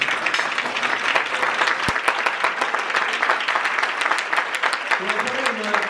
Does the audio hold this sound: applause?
yes